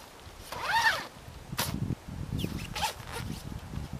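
A YKK zipper on a backpacking tent, running along a crescent-shaped track on a 70D nylon taffeta tent, is pulled in a long rasping sweep, followed by a few shorter zips and rustles of fabric.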